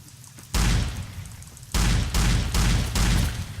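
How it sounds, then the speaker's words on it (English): A shotgun fires repeatedly in Fallout New Vegas with a Mass Effect 2 weapons mod, giving loud heavy booms with long noisy tails, one blast and then a quick run of four more shots. "you can pretty much just keep spamming shotgun shells at them because it just sort of reloads"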